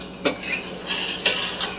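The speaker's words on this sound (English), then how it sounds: "make sure you can continuously stir this when you make it" A utensil scrapes and swishes through gluten-free country gravy in a hot pan, a few distinct close stirring strokes with faint sizzling underneath and no talking.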